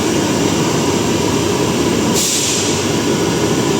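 Riello R40 GS5 industrial gas burner purging, a steady loud broadband roar of rushing air that holds constant throughout, with a brighter hiss joining partway through.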